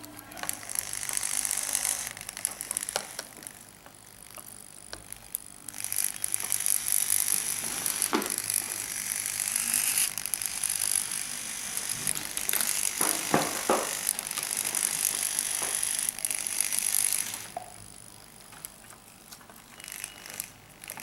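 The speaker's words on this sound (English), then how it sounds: "Two motors are rotating in clockwise direction and anti-clockwise direction." Two small Arduino-controlled motors spinning in opposite directions, giving a steady close mechanical whir with a gear-like ratcheting buzz that runs almost continuously and shifts slightly in level.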